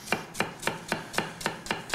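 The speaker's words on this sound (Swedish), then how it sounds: "Den finhackar vi, för det ska vi ha sen när vi steker upp svampen." A knife chops a banana shallot finely on a board, giving eight steady, evenly spaced crisp strikes in a quick rhythm, close and alone with no talk.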